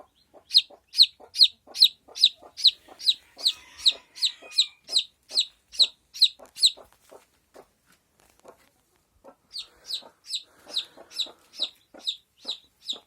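A young hen clucks in a steady, evenly spaced series of sharp calls, pauses for a moment, then resumes the same rhythm.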